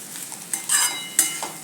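A Kolhapuri misal vegetable curry sizzles in a pan as a spoon stirs it close up. Short scraping strokes rise over a soft, steady frying hiss, with no talk.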